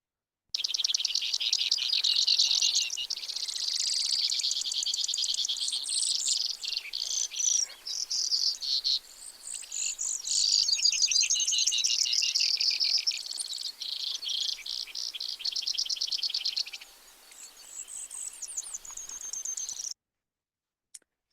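A Brewer's sparrow sings a long, high, buzzy song of rapid trills and chattering runs, shifting pace at times, close and continuous for about twenty seconds with near-silent background.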